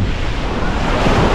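Big ocean waves surge onto a beach at Baybay Norte in Sual, Pangasinan, a loud, continuous wash of surf with heavy wind buffeting the microphone throughout.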